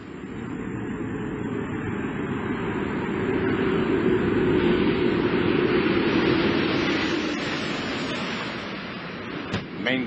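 Space Shuttle Atlantis touching down on its runway, a loud, broad roar that swells through the middle and then fades, with a sharp thump near the end and no talking.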